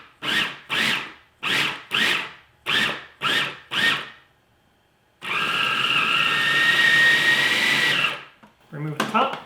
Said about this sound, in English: And now we just mix it or blend all these ingredients together.